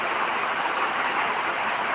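Heavy rain pounds a tin roof in a steady, dense roar of hiss with no pauses. The sound is loud and close throughout, and no one speaks.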